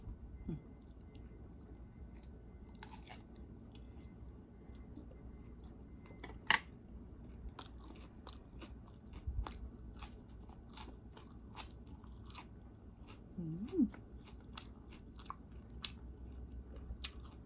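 Someone eating crisp fresh salad vegetables with pork belly salad, quiet close crunching bites at irregular intervals over soft room background.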